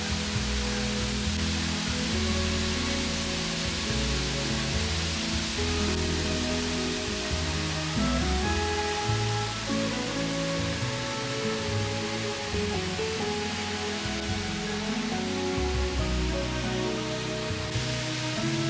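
A waterfall at Sitakunda, Bangladesh, roars as a steady, dense rush of falling water, loud and unbroken throughout, with a tonal, music-like layer running underneath.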